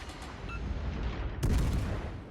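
Warship guns firing in World of Warships: Legends, a muffled rumbling barrage that swells into one louder, sharp boom partway through, followed by a sustained dull roar.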